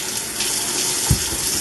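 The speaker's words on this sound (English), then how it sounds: "We get our potatoes. And we wash them off. Cold water." Potatoes rinsed under a cold running kitchen tap, a steady broadband gush of water with a brief louder splash near the end as the stream hits them.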